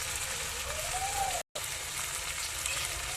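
New potatoes and peas fry with salt and spices in a pan, giving a continuous close sizzle that is cut by a short silent gap midway. A faint tonal sweep rises and falls beneath it.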